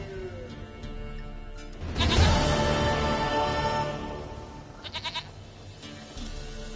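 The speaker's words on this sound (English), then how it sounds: "Goat of mine, dearest, sweetest goat." A goat bleats loudly in The Witcher 3: Wild Hunt, a long strained cry near the middle followed by a quicker, shorter bleat, over quiet ambient game sound.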